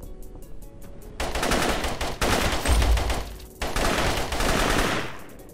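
Rapid bursts of automatic gunfire from an isometric tactical shooter game, Operation Valor, loud and dense, with a quieter spell of sparse shots at the start and sustained heavy firing after.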